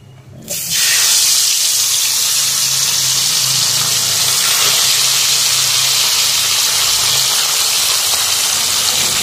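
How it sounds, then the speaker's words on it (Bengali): Pabda fish frying in mustard oil in a wok, a loud steady sizzle and hiss that bursts in suddenly and holds continuously, close and bright with no talk over it. "পাবদা মাছগুলো ভেজে নিচ্ছি"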